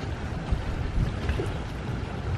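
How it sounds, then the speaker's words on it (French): Wind gusting steadily over water near a lakeside or seaside restaurant in Kenya, a dense rumbling buffet of air across the microphone lasting throughout, loud and unbroken with no voices. "Le vent"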